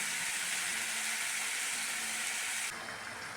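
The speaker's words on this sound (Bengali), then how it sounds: "চিকেন যদি ভেজে রান্না করে টেস্টটা একটু ভালো হয়" Chicken frying in a pan on a home stove, a steady close sizzle with soft hiss that drops a little near the end.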